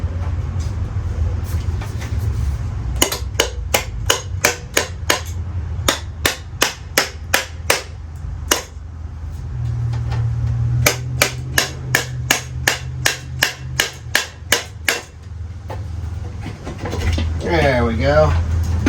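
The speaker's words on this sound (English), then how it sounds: "Where's my crescent hammer?" Sharp metallic hammer blows ring out in two rapid bursts of a dozen or so strikes each, working on a 1973 Harley-Davidson Sportster, over a low engine hum.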